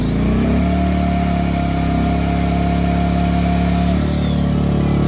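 A nearly new Ryobi RYi2322 inverter generator runs with a loud, steady engine hum close by, shifting to a lower, different tone about two-thirds of the way through; no talking.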